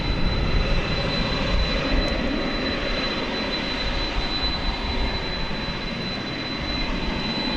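An American Airlines Airbus A320 jet at night at DFW Airport gives off a steady, broadband engine roar that holds at an even level throughout, with no talk over it.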